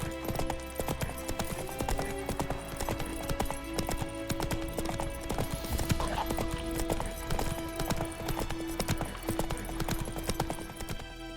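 A horse in The Witcher 3 video game trots with steady, continuous clip-clop hoofbeats over a busy game soundtrack, with neighing mixed in and a voice briefly speaking.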